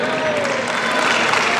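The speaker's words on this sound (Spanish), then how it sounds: "Aplausos, por favor." Applause from an audience at a karate federation awards ceremony, a steady dense wash of clapping filling the whole moment without breaks.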